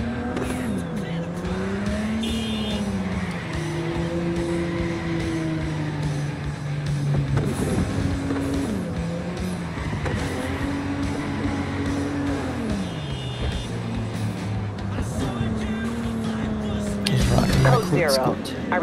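A car in Cyberpunk 2077 drives with a steady engine note whose pitch rises and falls through gear changes, with tire squeals and skidding toward the end, under someone talking.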